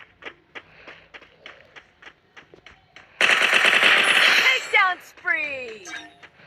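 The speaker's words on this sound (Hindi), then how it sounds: "भाई हम लोगों की गोलियां पूरी लगातार चली हैं।" Footsteps tap evenly in a battle royale video game, then a loud burst of rapid automatic gunfire rattles for over a second, followed by ringing metallic pings and echoing shots.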